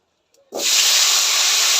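After a brief quiet, a loud sizzle bursts up as potatoes and eggplant drop into hot oil, then settles into a steady, close hiss.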